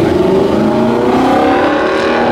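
Modified Lexus car engine revving in the street, a loud steady exhaust drone that holds close and continuous with a slightly falling pitch.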